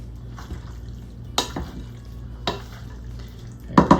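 Cheese being stirred into a chicken casserole in a dish, with a few soft scraping clunks of the utensil against the pot over a low steady hum, then brief clinks near the end.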